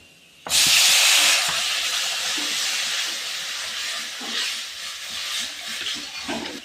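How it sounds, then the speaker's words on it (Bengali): Water poured into a hot pan of fried dal chorchori, an abrupt loud hissing burst of steam that settles into a sustained bubbling sizzle with occasional stirring, close and without talk. "এবার আমি একটু জল দিয়ে দেবো"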